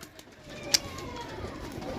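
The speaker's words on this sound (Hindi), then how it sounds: "चेक करो जनाब कबूतर" Pigeons coo softly nearby with low, muffled murmurs, broken by one sharp chirp-like click, over faint background hum.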